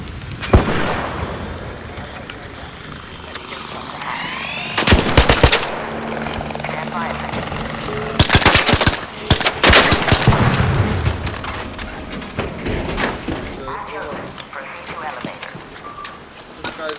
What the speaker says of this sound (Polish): Strzela, strzela snajper, snajper uciekaj.